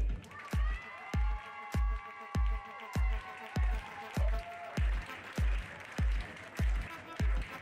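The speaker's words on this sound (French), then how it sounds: "je vous demanderai d'applaudir les 3 équipes qui vont monter sur les marches" An audience applauds medal-winning pony club teams at an equestrian prize ceremony, with steady, evenly spaced loud claps in a regular rhythm and a faint crowd murmur underneath.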